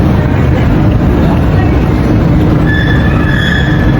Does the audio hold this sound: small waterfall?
no